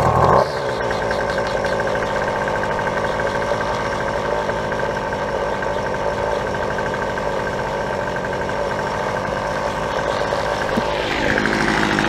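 A Poulan string trimmer's small two-stroke engine runs steadily close by at half choke, a loud, continuous buzzing drone that holds for about eleven seconds before the pitch shifts near the end.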